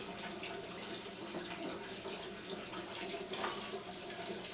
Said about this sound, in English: Got our distilled water rinsing ready. It's turned on.